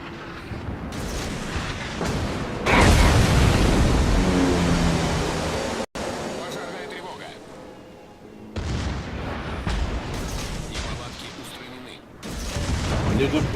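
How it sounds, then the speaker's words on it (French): Torpedoes strike a ship in the naval combat game World of Warships, setting off heavy rumbling explosions and a roaring, sustained boom with swelling waves of noise while someone talks over them. "Les premiers sets et deux torpilles au but."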